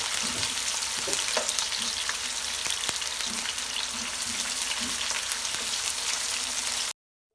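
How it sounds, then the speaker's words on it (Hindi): Turnip pieces fry in hot oil in a pan, giving a steady, close, continuous sizzle and crackle with occasional soft stirring clicks, no talking. "ये अच्छी तरह से फ्राई हो जाए, इसके बाद हम इसी तेल में टमाटर फ्राई करेंगे।"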